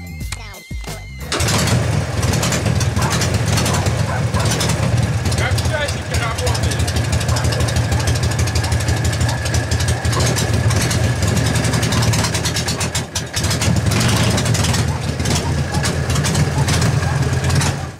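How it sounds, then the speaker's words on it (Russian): A homemade junk-built motorcycle engine started up and running continuously at a loud, steady idle with a rough rhythmic rumble, close to the microphone, with speech over it; the bike is fitted with tires studded with self-tapping screws. "сейчас запускаем движок, греем и едем тестить наши самодельные шипованные колеса"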